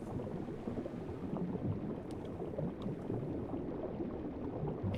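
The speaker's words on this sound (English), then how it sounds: "You hear the noise right there is the water rising." Water rising as a room floods in the Radical Dreamers video game, a low, steady rushing and bubbling wash that continues evenly at moderate volume throughout.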